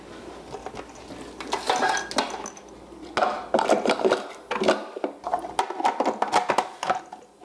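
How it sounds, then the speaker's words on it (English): Coarse chopping of sunflower seeds for a spread, with clattering knife or blade strikes on a hard surface in uneven rapid bursts, close and fairly loud, no talk. "chop up the sunflower seeds so that they're just coarse"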